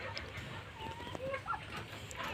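Faint sounds come from young fighter-breed chicks, a few soft cheeps and clucks over a quiet background.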